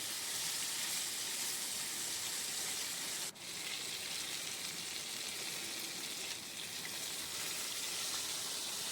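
Small pona fish fry in hot oil in a home kitchen, giving a steady, close, broadband sizzle that continues unbroken with no voices.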